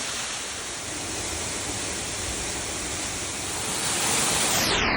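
A steady, full roar of Nant y Ffrith waterfall near Bwlchgwyn, Wrexham, loud and constant throughout with a broad hiss, swelling slightly near the end.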